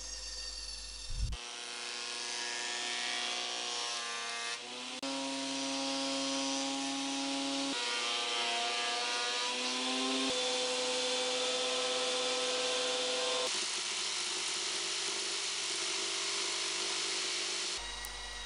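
Power saw ripping thick lumber to width for the rails of an oval table; a sustained whining cut with shifting tonal pitch over several passes, close and loud, starting and stopping with brief pauses.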